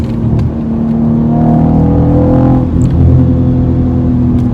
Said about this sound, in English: It's got this sort of trumpety sound out of that V6, but it's throatier than normal